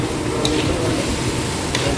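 Chopped onions frying in a pan for a home-cooked chicken dish, a steady, close sizzle with soft crackles and no talking.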